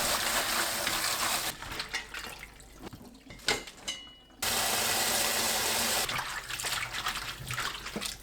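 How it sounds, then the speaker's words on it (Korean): Dried eggplant is washed under running water, with a steady splashing stream that stops midway for a few seconds of soft drips and handling sounds, then flows again. "건가지를 두세 번 씻어줍니다."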